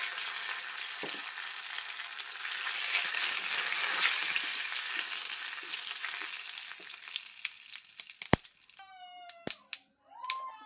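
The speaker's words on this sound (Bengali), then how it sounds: "এরপর আমি ওই তেলের মধ্যে দিয়ে দেবো কারি পাতা আর দিয়ে দেবো সরষের ফোড়ন" Curry leaves and mustard seeds sizzle in hot oil, a bright steady hiss that swells and then fades, broken near the end by a few sharp pops and clicks and a brief high whining tone.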